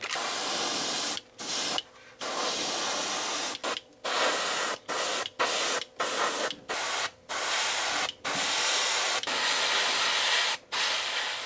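An airbrush sprays Createx transparent bright green paint onto a four-part hinged swimbait lure, a close, steady hiss broken into repeated bursts by short pauses between passes.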